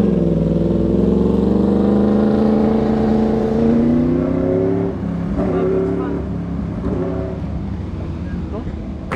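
A crashed Yamaha R1 motorcycle's engine keeps running, a steady nearby drone with harmonic tone that dips and shifts slightly midway, with people talking over it.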